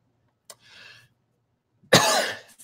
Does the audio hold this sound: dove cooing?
no